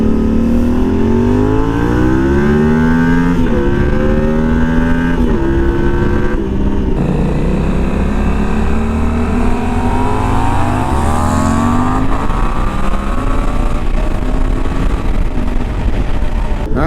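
Suzuki V-Strom 800DE motorcycle ridden at low speed on a gravel track, its engine revving up and down continuously and close by, with rising and falling pitch as the rider shifts and accelerates, no talk.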